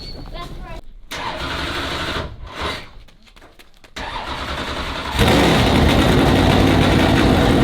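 A race car engine cranks over and tries to fire, the starter kicking out and cutting off between attempts, then the motor catches into a loud, steady running roar; a person talks over the cranking.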